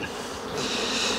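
Honeybees hum from an open hive, a dense continuous buzz that holds steady and swells slightly over a short moment, with no voices.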